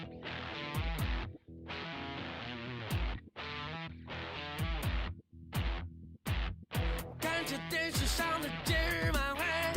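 A rock song with driving, pounding guitar under a sung vocal line, loud and continuous with brief stop-start gaps between phrases.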